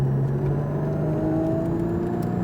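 A Porsche Cayman GT4 on the Speed Vegas track hums loud and close as it engine-brakes and downshifts, the engine note steady with slight pitch shifts.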